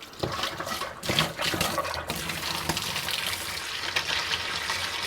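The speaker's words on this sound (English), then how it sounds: "now it's filling up the water" Hose running water into an aquarium during a water change, a steady broadband rush of filling water that carries on throughout, fairly close, with small surges and no talk.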